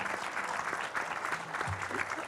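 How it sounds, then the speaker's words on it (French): A crowd in a Paris cinema applauds a staff member, a soft, even patter of clapping that stays fairly faint and continuous for a couple of seconds. "il faut applaudir Amaya"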